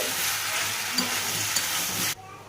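Boiled potatoes and chickpea-lentil dumplings are stirred in a hot pan for a vegetarian dish, a close, continuous sizzle with a couple of light utensil knocks that cuts off abruptly near the end, no voices.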